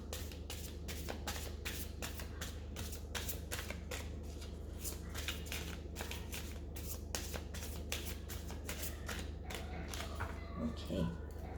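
Tarot cards are shuffled by hand in a long run of soft, riffling flicks and slaps over a low steady background hum, close and fairly quiet, with no speech.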